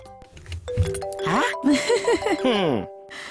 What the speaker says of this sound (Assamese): ফোন আহিছে নেকি তোমাৰ